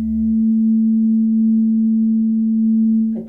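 A metal tuning fork tuned to Venus rings with a single pure, steady tone that holds evenly and close by for a few seconds before a brief knock ends it.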